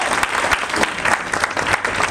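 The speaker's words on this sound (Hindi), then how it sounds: "एक बार ताली होनी चाहिए सबके लिए।" An audience at a business leadership meeting claps together, a loud sustained burst of applause with sharp individual claps throughout, filling the room.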